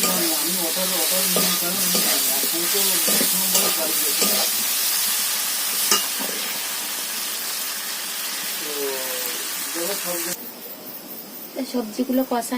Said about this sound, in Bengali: এখন সবজিগুলো তাও একসঙ্গে কষছি